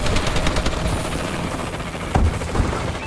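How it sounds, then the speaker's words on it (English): A Warbird gunship flies overhead in Call of Duty: Advanced Warfare, its steady rotor-like drone filling the mix, broken by a few sharp bursts of distant gunfire. "Friendly warbird in the air."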